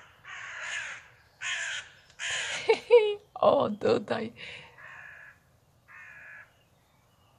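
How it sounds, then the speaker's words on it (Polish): A young crow gives short hoarse, muffled caws in a spaced series, fairly close, between and over someone speaking quietly. "to ten mały się teraz odezwał. Takim zduszonym głosem."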